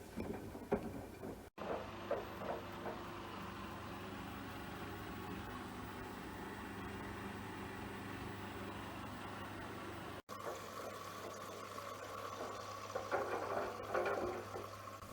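Washing machine cleaning Lay-Z-Spa filters, a continuous low hum with sloshing water churning inside the drum, steady and moderately quiet, briefly cut twice.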